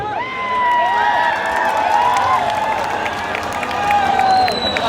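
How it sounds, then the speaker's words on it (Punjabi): A large outdoor concert crowd at a show claps and cheers in a steady, dense wash of applause, with whistles and shouts rising above the roar throughout. "ਇੱਕ ਜ਼ੋਰਦਾਰ ਤਾੜੀ"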